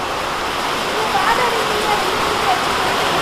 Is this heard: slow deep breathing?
no